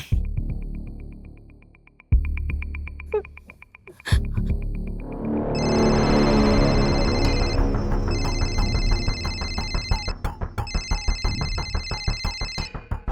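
A telephone rings inside a house with a loud electronic ringtone of bright, repeating tones that pulse steadily and sound alone without any talking.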